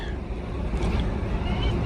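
Steady wind roars around an International Harvester L-130 truck, a dense continuous low rumble of buffeting air held close to the microphone for the full stretch, with no break in its broadband noise.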